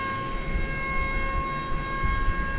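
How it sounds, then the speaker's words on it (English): A steady, droning whine with sustained high tones over a low rumble, continuous and fairly loud, from an air start unit running beside a plane at DFW Airport at night. "one of their planes is getting the benefit of an air start"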